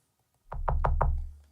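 Four quick, clicky kick-drum click hits from a Korg Volca Drum synth in a steady row over a deep sustained low thump, with no talking.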